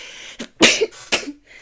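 A few sharp, explosive bursts close by, like a sneeze or two with breathy lead-ins, fairly loud and isolated.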